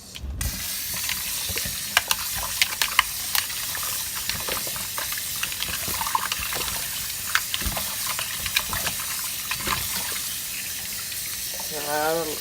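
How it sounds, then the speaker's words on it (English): Raw chicken being rinsed under a running kitchen tap gives a steady, continuous hiss of flowing water with small splashes and clinks throughout, close and moderately loud. "what I like to do is rinse it off first"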